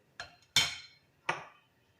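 A lid set on a cooking pot on the stove: three short, close metallic clinks, the second the loudest, with quiet pauses between them.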